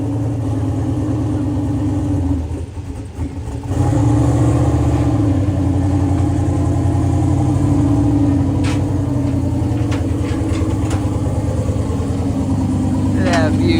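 A Ford Mustang engine, prepped for a cheap car challenge, cranks and catches, then settles into a steady, rumbling idle that runs on throughout, with people talking nearby over it.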